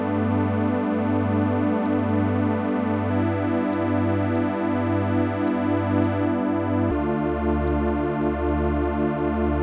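Arturia synthesizer patch with a keyboard-follow filter playing a MIDI part: repeated pulsing bass-heavy chord notes in steady rhythm, shifting harmony twice, with slight distorted, chorus-like character and a few faint high ticks.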